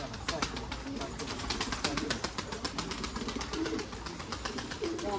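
Pigeons, Keşpir and posta breeds, cooing and fluttering in a large coop, with steady overlapping coos and soft wing sounds close by, a faint murmur of voices in the background.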